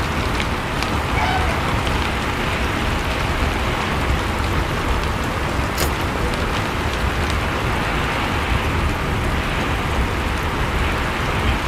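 Steady downpour of heavy rain drumming on surfaces nearby, a constant loud wash of drops with a brief faint click partway through.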